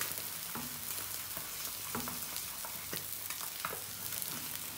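Eggs fry in a pan with a constant close sizzle and crackle, broken by scraping utensil strokes as they are flipped over, with no talking.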